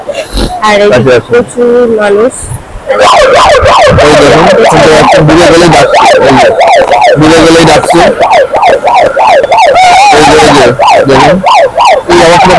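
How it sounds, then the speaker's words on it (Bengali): A loud wailing lifeguard siren rises and falls repeatedly in a steady cycle at a crowded beach in Puri, with a voice audible under it. "ওরা হর্ন বেড়াচ্ছে আর সাইরেন দিয়ে সাবধান করছে"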